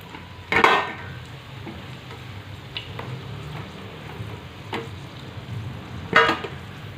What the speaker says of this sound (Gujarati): આવી રીતે આમ ફેરવતા રહેવાનું છે આપણા મરચાં સરસ તળાઈ ગયા છે